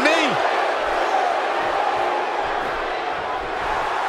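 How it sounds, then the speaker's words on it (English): Capacity arena crowd in the wrestling video game WWE 2K18, a loud continuous roar of cheering with a brief rising whoop at the start, sustained and close throughout. "This capacity crowd starting to sense the end is near"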